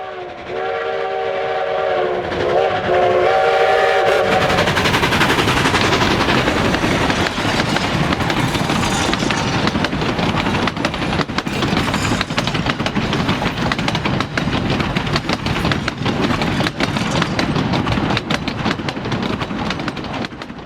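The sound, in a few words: steam train passing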